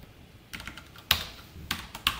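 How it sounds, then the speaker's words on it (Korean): Computer keyboard keys pressed during coding work, a handful of sharp, separate clacks spaced irregularly over a quiet room background, close to the microphone. "Alt 대 컨트롤 눌러서"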